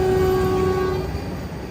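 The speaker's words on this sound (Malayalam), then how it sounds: "ദേ വന്ദേ ഭാരത് ഇവിടുന്ന് പോയി" A Vande Bharat express train passes near Thiruvananthapuram, giving one long, steady horn blast that cuts off after about a second, leaving a low rumble.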